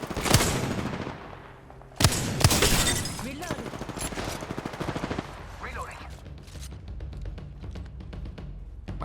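Gunfire in Apex Legends on PS4, including long-range Kraber and Wingman shots, crackles in bursts with sharp loud shots early and rapid repeated fire throughout, mixed with game effects and some talk.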